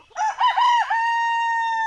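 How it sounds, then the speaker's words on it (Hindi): A Sonali rooster crows once, loud and close, in a single strident cock-a-doodle-doo that ends in a long, held final note. "क्योंकि मुर्गा बोल देता है।"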